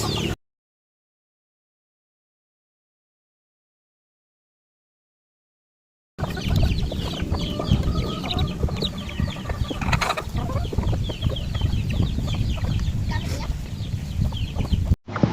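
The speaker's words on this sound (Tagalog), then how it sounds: "Daming manok talaga dito guys sa amin." A large flock of chickens clucks continuously on a provincial farm, with dense, overlapping calls after a long stretch of silence, close and moderately loud.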